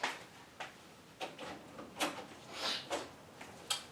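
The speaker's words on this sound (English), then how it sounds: "And I open my door" A door being opened indoors, giving a series of short, sharp clicks and knocks spaced irregularly, with a brief scraping slide in the middle, fairly quiet and close with no voices.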